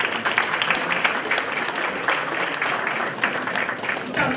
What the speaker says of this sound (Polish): Też brawa.